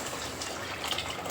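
Liquid pours into a cooking pot of spiced Khandeshi chicken curry, a soft, brief, steady gush with no voices.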